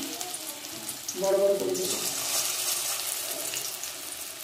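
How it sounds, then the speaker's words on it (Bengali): Coriander-leaf fritters (bora) frying in white oil, a continuous hiss and crackle of sizzling batter heard close up, with someone talking over it. "সাদা তেলে বড়াগুলো ভাজছি"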